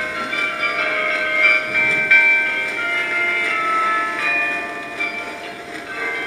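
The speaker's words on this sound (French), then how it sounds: "ça c'est un document 1939 qui sont les cloches de Corneville près de Rouen qui ont été enregistrées" Old 1939 recording of the church bells of Corneville near Rouen, sustained ringing tones blending into a steady metallic drone over a noisy, hissy background.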